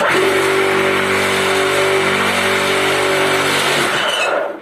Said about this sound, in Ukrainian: Включаємо два вібратори.